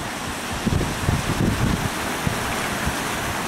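Wind buffets the microphone on a new dam in Sumgait while Caspian Sea waves wash and surge nearby, with a few louder rushes of surf in a steady roar.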